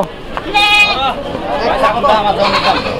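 A goat bleats once up close at a busy Eid livestock market in Homna, Comilla, a loud wavering cry of about half a second, surrounded by constant crowd chatter and overlapping voices.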